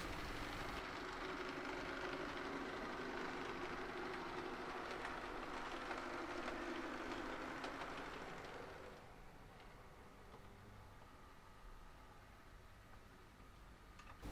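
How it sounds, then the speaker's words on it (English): An 00 gauge model Class 33 diesel locomotive with a ballast train rolls past at a steady pace, continuous rumbling and clatter that fades down near the end, fairly quiet overall. "a Class 33 on an up ballast train hurries through"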